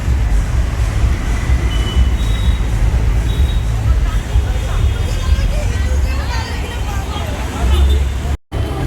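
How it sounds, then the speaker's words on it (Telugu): A Mumbai metro train runs loudly with a deep rumble of wheels on rails and faint squeals, under a murmur of passenger chatter. "సో ప్రస్తుతం అయితే మెట్రో అయితే ఎక్కాను."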